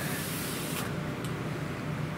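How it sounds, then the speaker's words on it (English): Water hose spraying down a work area before cleaning a resin 3D printer, a steady broad hiss of spray filling the whole short stretch at close range. "just hose down your area first before you even start"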